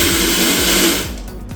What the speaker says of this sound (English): you can see the nozzle coming out for the spray. You can also control the strength of the water.